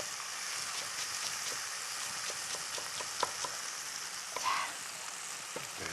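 Dried radish and egg being stir-fried in a pan, a steady broadband sizzle with scattered pops and crackles throughout and a brief louder stir near the end, no voices.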